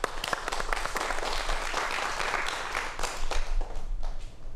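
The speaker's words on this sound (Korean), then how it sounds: "박수로 다시 한번 청해 보도록 하겠습니다." A studio audience on a Korean television lecture program about the Donguibogam applauds in a steady, moderately loud round of clapping that carries on evenly from start to finish.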